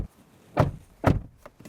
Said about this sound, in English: Door test. Sounds pretty solid.